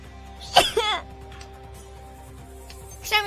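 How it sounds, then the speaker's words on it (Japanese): A streamer sneezes once, sharp and close, with a voiced trailing tail. A second short burst follows a couple of seconds later against a quiet background. "くしゃみが出そうです。"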